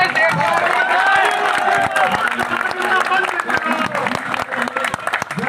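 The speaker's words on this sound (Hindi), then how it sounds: "हम जोरदार तालियों से धासू सर जी का स्वागत करते हैं।" Crowd applause rises to welcome a guest at a gathering of job candidates in Delhi, dense steady clapping with babble and scattered cheers throughout, loud and close.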